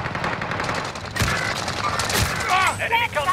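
Call of Duty Warzone SMG gunfire crackles in short rapid bursts with clattering impacts, mixed with game voice chatter and electronic effects.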